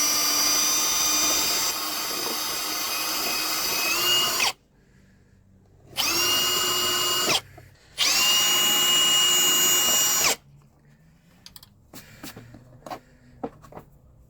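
A power drill whines loudly in three bursts, a long run then two shorter ones separated by pauses, as it bores into a Nissan Rogue panel during an under-glow LED light install, followed by faint clicks and handling noises.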